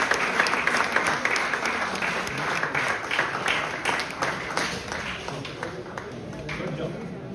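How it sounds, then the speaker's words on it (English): An audience at a university conference valedictory session gives a long round of applause, dense clapping that starts strong and slowly thins toward the end, with voices talking over it. "A big round of applause for"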